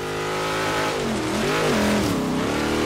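A Jeep TrailCat engine drives off-road in Forza Horizon 3, a steady loud revving drone whose pitch dips and rises as it accelerates, with no talk over it.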